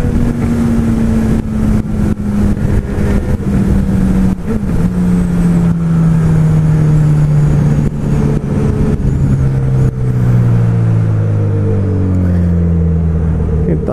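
Motorcycle engine running steadily while riding on the road, a continuous loud drone that slowly drops in pitch as it eases off, with faint wind noise throughout and no talking.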